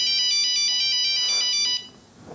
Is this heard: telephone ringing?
yes